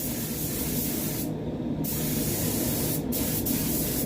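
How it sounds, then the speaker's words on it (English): A spray gun hisses continuously as it lays down lacquer clear coat on a Nissan Leaf car door in a paint booth, with a few brief breaks in the steady spray. "Just spray wet on wet like I'm spraying lacquer really."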